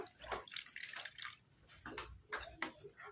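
Water is poured in short splashy bursts into a bowl of batter, quiet and close, with brief gaps between pours.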